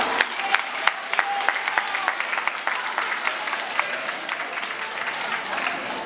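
A concert audience in Sochi applauds accordion players from Cheboksary, giving a dense, steady round of clapping with sharp individual claps standing out and faint whistles or cheers mixed in.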